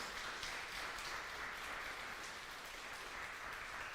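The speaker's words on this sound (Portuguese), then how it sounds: "Eu gostaria que a igreja pudesse aplaudir ao Senhor pela vida deles" Church congregation applauding in praise, a faint, distant wash of steady clapping from a crowd, even and sustained throughout.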